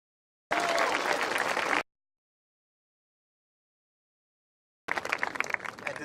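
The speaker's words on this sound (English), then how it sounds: "Let's give them a round of applause." A crowd at a graduation ceremony claps in a burst of applause, stops abruptly, then resumes after a few seconds of silence.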